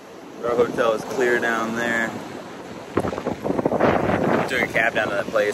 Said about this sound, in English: It's probably way too windy for you guys to hear me.